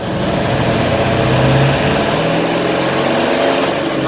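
The GAZ-66 truck engine, which has a knocking fault and a lit oil pressure warning, runs loud and close, with its revs swelling briefly and then easing back to a steady rumble.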